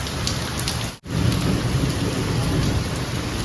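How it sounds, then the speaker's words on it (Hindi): Heavy rain pours at night at about 1:30, a steady loud roar of drops on surfaces with rumbling thunder mixed through and a brief dropout near the start. "बहुत तेज बारिश हो रही है यार।"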